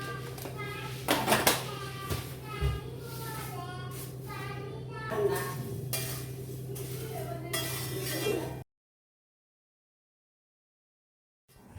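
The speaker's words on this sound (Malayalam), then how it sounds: "അപ്പം നമ്മൾ പൊരിയിളക്കിക്കൊണ്ടിരിക്കുകയാണ് കേട്ടോ" Puffed rice being roasted and stirred in a pan, with repeated close clinks and scrapes of a spoon against metal over a faint hum, while people talk throughout, then silence.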